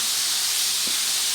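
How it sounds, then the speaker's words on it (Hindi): Double-coated popcorn chicken frying in hot oil, a loud, even, continuous hiss of bubbling oil with one faint low bump partway through. "अब हम डबल कोटिंग करके मैंने अब फ्राई के लिए डाले हैं।"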